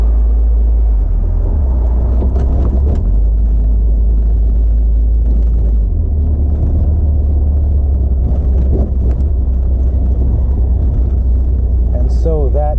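A 1980 Fiat Spider on a test drive, with a loud, constant low engine rumble and road noise filling the cabin throughout, plus occasional brief knocks.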